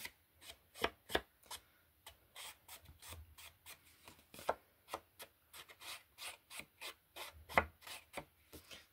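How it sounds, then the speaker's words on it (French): Distress Oxide Vintage Photo ink being blended onto paper with an applicator, a quiet, close series of quick rubbing and dabbing strokes in an uneven rhythm, with no talk. "Je vais ancrer avec de la Distress Oxide Vintage Photo."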